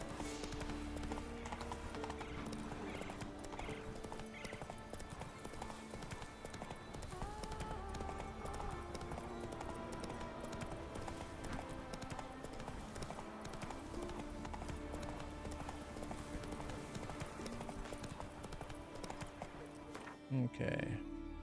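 Rhythmic clip-clop of the horse Roach's hooves in the video game The Witcher 3 on Skellige, steady and continuous, mixed under game music and ambience, ending in a brief louder knock.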